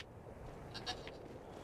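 A goat bleats in the video game Brothers: A Tale of Two Sons, a couple of short, moderately near wavering calls over a steady low background ambience, with no talk.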